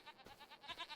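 Goats on a Farming Simulator 25 farm bleat several times in quick succession, short nasal calls at moderate distance, no talk over them.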